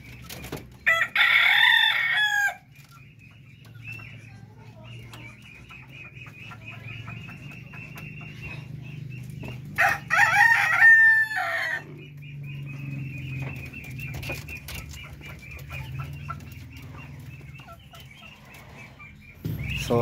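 Native Filipino darag chickens on a farm, two loud rooster crows several seconds apart over continual clucking and softer calls from the flock.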